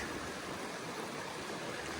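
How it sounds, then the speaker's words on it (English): A steady, even rush of running water, like a small stream swollen by recent rain in the Wyoming backcountry, continuous and unbroken with no voices. "It has rained the last couple of days, and the streams are running."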